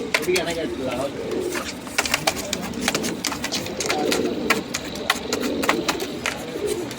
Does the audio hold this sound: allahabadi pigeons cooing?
yes